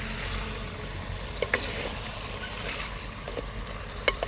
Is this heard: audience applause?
no